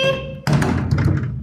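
Knocking on a door: a sudden, close, dull thump that cuts in after a fading tone and is followed by a short rattle of further taps.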